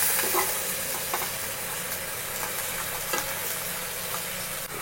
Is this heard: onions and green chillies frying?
yes